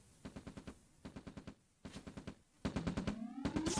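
Rifle fire in the strategy game OpenRA Red Alert comes in quick bursts of four or five cracks separated by short pauses, fairly quiet, with a rising mechanical whine joining near the end.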